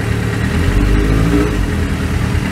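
A Suzuki GSX750F motorcycle engine idles after its carburetors have been balanced. It gives a close, steady, low rumble that stays even for a few seconds, with no talking.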